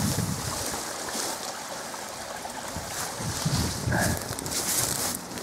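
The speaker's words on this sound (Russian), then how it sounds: "от второго снизу пруда у его начала какая-то труба сливает воду, и вода уходит в коллектор дальше" Water pours from a pipe below a pond and drains on toward a collector, a constant rushing, splashing flow heard close up with a faint hiss, and nobody speaking.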